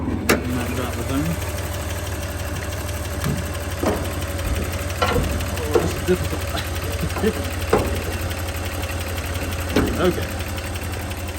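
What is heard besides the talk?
1989 Toyota Land Cruiser FJ62 engine idling with ticking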